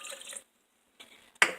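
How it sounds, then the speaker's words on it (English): Quarter cup of water poured into a blender already holding mayonnaise: three short splashy bursts, the last loudest, separated by silence. "Then I'm going to add 1/4 cup of water"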